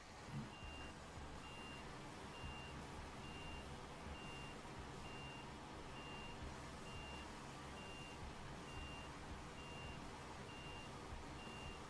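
A truck reversing in the Snowrunner video game on Ontario hard mode, with a steady repeating back-up beep above a constant engine drone and rumble, no talk.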